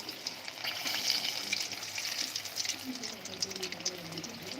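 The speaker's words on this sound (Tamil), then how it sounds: "அந்த எண்ணெய் வந்துட்டு பொறிஞ்சு வருதில்ல அந்த எண்ணெய் குமிழாக வந்துட்டு கொஞ்சம் அடங்கட்டும்" Fish frying in bubbling hot oil gives a steady, dense sizzle and crackle throughout, fairly close and constant, with faint talk underneath.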